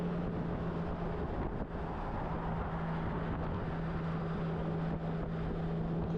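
A Honda Goldwing GL1800 touring motorcycle with a Stage 1+ ECU flash cruises in tour mode, its engine a steady low drone under constant wind rush at the microphone.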